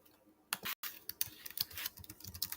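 Typing on a computer keyboard: after a short silence, a quick, irregular run of close, light key clicks and taps continues to the end.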